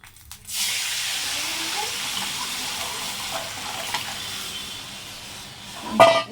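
Hot fried tempering with onion poured into raw tamarind rasam gives a loud, steady hiss and sizzle that holds for several seconds, then ends with a brief clatter.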